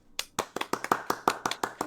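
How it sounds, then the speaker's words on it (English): A small group claps in a quick, uneven rhythm of about a dozen sharp, close claps, with no talk. "can I get some fucking applause for the progress I've been making?"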